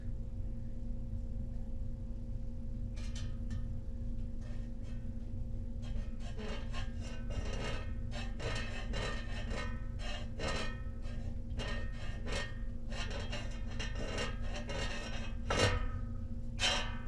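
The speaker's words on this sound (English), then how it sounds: "What are we scraping on?" Rasping scrape of a fan rubbing against wood during an attic fan installation, a steady low hum underneath and repeated short scraping strokes building through the middle and end, fairly close with no talk.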